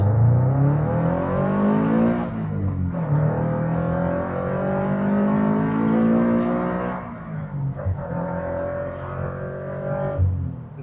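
A Subaru BRZ fitted with an induction kit pulls away hard from traffic lights, its engine note climbing loud and close through rising revs, dropping briefly at a gear change around the middle, then climbing again.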